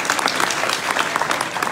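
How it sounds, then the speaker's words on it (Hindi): An audience at a Punjabi political rally breaks into applause, a dense crackling of many hands clapping at a steady level for the whole stretch, with no speech on top. "ताली मारो"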